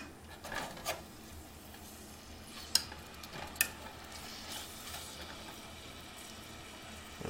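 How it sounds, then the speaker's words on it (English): Chicken frying in a pan over medium to medium-high heat gives a faint, steady sizzle, broken by a few soft clinks and scrapes and one or two sharper clicks. "You can hear it start to sizzle."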